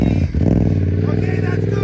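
DTV Shredder engine revving hard, a steady, loud motor roar with a brief dip near the start, while voices talk over it.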